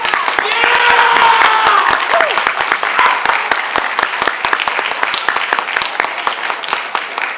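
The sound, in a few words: audience applause for speech contest students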